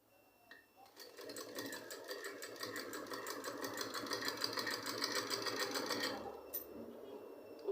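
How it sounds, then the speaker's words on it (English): An electric sewing machine stitching fabric for a turban cap, a close rapid mechanical chatter that starts, runs steadily for about five seconds and stops, with quiet room sound around it. "So I'm going to stitch it all down."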